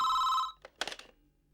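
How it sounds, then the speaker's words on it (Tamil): A telephone bell rings in one loud electronic trill that stops abruptly, followed by a couple of soft clicks and handling noises as the receiver is picked up, then quiet. "அவர் ஃபோனாக தான் இருக்கும்."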